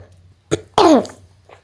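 A short cough while drinking tea, used as an audiobook sound effect: a brief throat-clearing burst followed by a louder, voiced cough, close and isolated against near silence.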